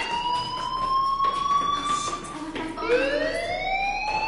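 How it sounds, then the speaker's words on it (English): Fire alarm ringing in a video game: a loud, steady electronic siren tone that holds, dips briefly and then rises again, sounding continuously with no talk over it. "do you hear that fire alarm?"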